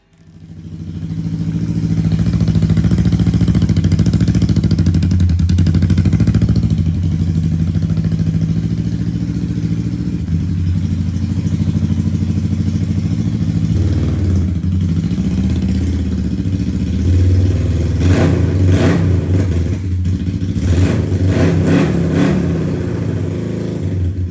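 A Yamaha XS400 motorcycle engine running after its carburetors were filled, a loud close steady idle with a rough mechanical rumble that holds for most of the stretch, then several revving blips near the end.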